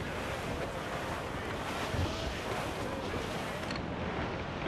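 Squall wind and crashing sea waves in Assassin's Creed Black Flag roar as a steady, loud, broadband rush of gusting air and surf around a sailing ship, with no talking.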